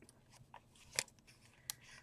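Scissors snipping paper while fussy cutting a rose embellishment, a few faint, sparse close snips with two sharper clicks, quiet and without speech.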